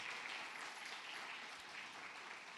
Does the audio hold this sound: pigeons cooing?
no